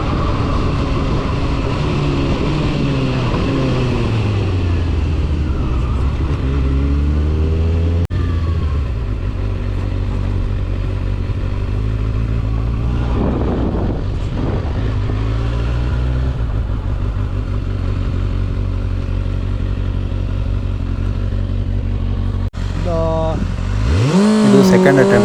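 Kawasaki ZX6R motorcycle, a 2024 model, accelerating hard and shifting up through the gears without a quickshifter. The engine note climbs steadily with several clear breaks between gears, and a voice talks over it throughout.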